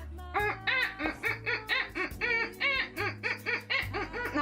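A seagull sound alert on a livestream plays a rapid series of harsh gull cries, loud and repeated in quick succession over a low steady hum.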